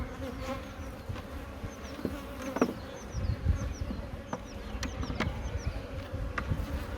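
Honeybee colony buzzing steadily from an open hive during an inspection, a dense close drone with scattered sharp clicks and taps from handling frames.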